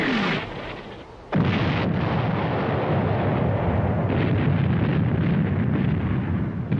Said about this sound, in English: The artillery bombardment on February the 21st was the heaviest in the history of warfare.